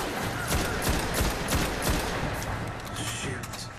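Rapid gunfire from the video game Destiny, dense bursts of shots crackling continuously at close range for several seconds, with a voice speaking over the fire.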